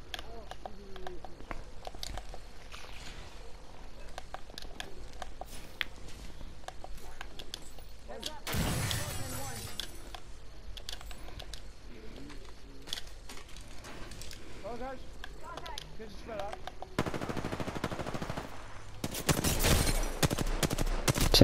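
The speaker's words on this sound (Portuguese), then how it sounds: "Estás a ver os tiros, vai dar perto." Gunfire in the Apex Legends video game, bursts of sharp shots and rapid automatic fire, with loud blasts near the middle and end, mixed under a player talking throughout.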